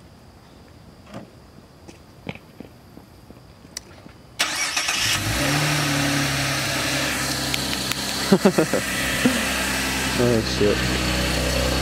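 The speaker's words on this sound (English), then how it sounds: "why don't you rev it up for the camera?" A car engine starts up partway through and then runs loudly, with a few sharper rises in revs near the end; before it starts there are a few faint knocks, and a voice briefly exclaims.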